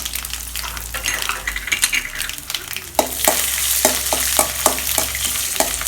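Cumin and crushed small garlic cloves spluttering in hot oil for a moringa leaf dal, a busy crackling sizzle joined by a run of sharp metallic spoon taps against the pan.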